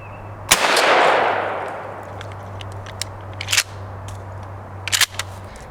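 A single loud, close shotgun blast fired at a pattern target set at about 40 yards, its roar decaying over a second, followed by a few faint clicks and rustles of handling in an otherwise quiet outdoor setting.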